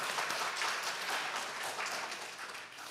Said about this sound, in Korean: 다시 한번 격려의 박수 해주시면 감사하겠습니다.